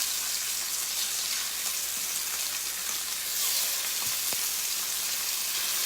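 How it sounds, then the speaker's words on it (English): Veal scallopini laid into a hot sauté pan, giving a loud, steady, close sizzle of frying meat that runs unbroken throughout with no talk. "I'm going to start laying in my scallopinis right now. And you can hear that sizzle."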